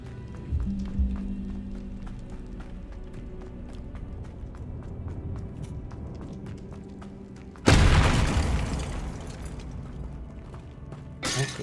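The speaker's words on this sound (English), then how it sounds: "Pot exploding." A pot bursts in the video game Hogwarts Legacy, a sudden loud crash and shattering burst that rings out and fades over several seconds, preceded by quiet footsteps and ambient game sound.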